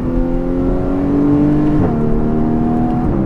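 Loud Porsche Cayman GTS 981 engine droning close by, its pitch shifting abruptly twice as it downshifts through the gears.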